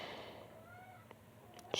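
A cat meows in a quiet indoor room, a soft drawn-out call with a faint tonal rise, followed by a brief sharper sound near the end.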